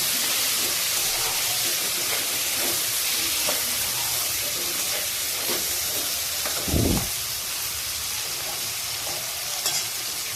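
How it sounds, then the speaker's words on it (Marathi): Eggplant pieces sauté in a hot pan, a steady loud sizzle with scraping stirs and occasional clatter of the spoon, no talking. "वांग पण चांगलं परतवून घेते।"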